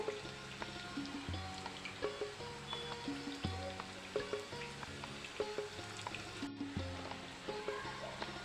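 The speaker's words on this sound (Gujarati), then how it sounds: "થોડી થોડી વેફર બનાવીને તેને તળી લેવાની છે" Thin raw banana wafers fry in hot oil, a soft, steady bubbling sizzle with light crackles, fairly quiet and close, with no talking.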